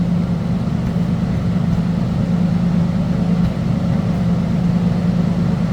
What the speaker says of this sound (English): Let you listen. Nothing crazy as far as the exhaust goes.